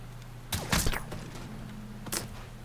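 Gunfire in the video game Mafia 3: a couple of sharp, close gunshot bursts spaced over a second and a half against a low steady game hum.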